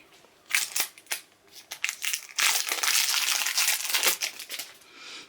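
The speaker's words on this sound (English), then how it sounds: "Let me take this seal off. It's got one of those perforated seals that never work." A plastic perforated seal is torn and peeled from the neck of an LA Girl glass foundation bottle, close up, in a run of crackling, crinkling rips, brief at first and then longer and more continuous.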